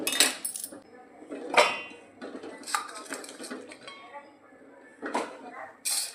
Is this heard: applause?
no